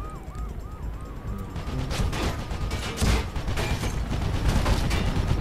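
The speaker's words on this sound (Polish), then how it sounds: "Ten helikopter wciąż mnie ostrzeliwuje." Gunfire from a helicopter in the Mirror's Edge video game opens up as rapid bursts of sharp shots and booms, loud and sustained over a mechanical background hum.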